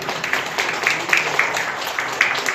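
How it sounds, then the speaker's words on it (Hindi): Guests at the 8th anniversary celebration of the Andaman Nicobar Tour Operators Association clap steadily through the whole moment, a fairly loud, even patter of hands. "जोरदार तालियां।"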